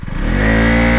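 KTM RC 200 motorcycle (2023 BS6) accelerating hard in first gear with rear wheel spin, its engine note rising into a loud, steady, close-up roar after a brief choppy start.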